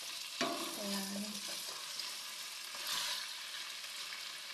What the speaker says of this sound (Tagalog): Paglalagay ng oyster sauce, haluin natin. Iwasan natin madurog ang ating chicken meat.